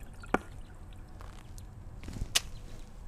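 A water-soaked sponge hits a surface twice, each impact a sharp wet splat followed by a brief squish of water, with quiet outdoor background between the hits.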